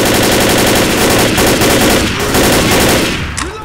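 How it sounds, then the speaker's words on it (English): A minigun turret in Left 4 Dead fires a loud, continuous rapid burst of machine-gun rounds that runs for several seconds before cutting off near the end. "That minigun was awesome."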